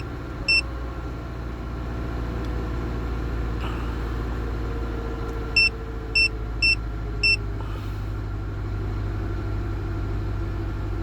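A Mazda CX-7 2.3 turbo petrol engine with 170,000 km idles steadily during a cold start at night, a low constant hum with a few short electronic beeps heard over it.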